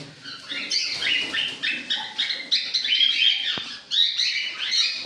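White peach-faced lovebirds chirp at a bird stock point, a busy overlapping chatter of bright, high tweets and squeaks that keeps going close by, with one short thump partway through.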